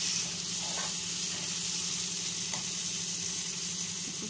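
Chili and curry leaves frying in hot oil for a shrimp curry: a steady, close sizzling hiss that holds evenly throughout, with a few faint clinks and no voices.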